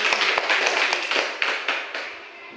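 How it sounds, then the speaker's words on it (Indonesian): Quick clapping from people gathered at a school event in Indonesia, fairly loud and close, with the sharp individual claps running together at first and thinning out toward the end. "kita tepuk tangan."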